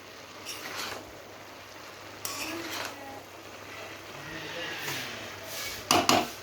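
Cabbage, carrot and pea vegetable fry being stirred in a pan with a utensil: scattered light scrapes and clinks spread through the stretch, ending in a brief louder clatter of metal near the close.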